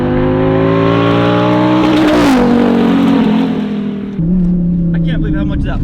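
A car engine sits bouncing off its rev limiter, holding a loud, near, steady high-rpm tone with a brief dip partway through, then settling back, with a voice audible near the end.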